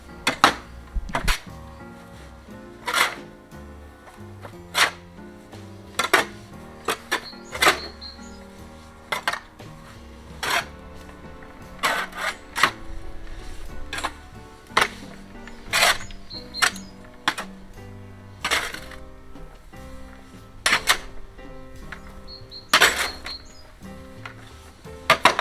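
A garden fork mixes grass seed in a box: sharp metallic clinks and knocks repeat irregularly throughout, close and fairly loud, with no talking.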